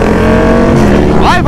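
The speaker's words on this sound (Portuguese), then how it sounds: "Olha aí a motinha, ó." A stunt motorcycle at a street stunt event roars loudly and steadily nearby, with a rising rev toward the end, while crowd voices and talk mix in underneath.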